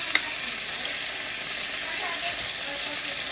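Chicken and liver sizzle and fry in oil in a pan, a steady close, dense hiss running unbroken with a faint tap near the start.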